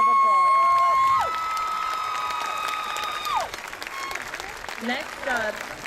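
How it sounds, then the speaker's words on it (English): Cheering and applause ring out from the audience at a high school graduation ceremony, with a long sustained whistle-like tone over the crowd at the start and a steady mass of clapping with whoops afterward. "Let's give these young ladies another round of applause."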